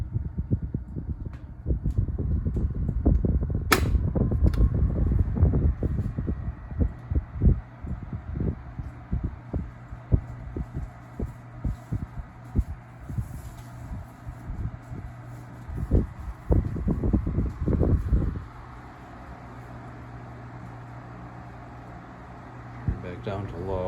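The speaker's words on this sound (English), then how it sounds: "You can hear that it's moving stuff around behind me." A KDK 12-inch oscillating table fan blows air with a steady whooshing hum, and things behind it rustle and knock in the airflow. Near the end the fan is switched to a lower speed and the sound quietens.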